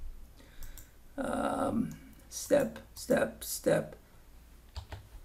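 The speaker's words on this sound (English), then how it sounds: "I have to type the right number" Quiet clicks of typing on a computer keyboard while entering numbers into a MARIE simulator, a few brief taps at the start and end around someone speaking.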